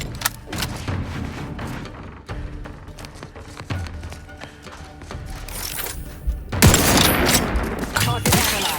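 A firefight against machines in The Outer Worlds 2: rapid, repeated gunshots crackle throughout, building into a louder, denser barrage near the end, with voices speaking over the shooting.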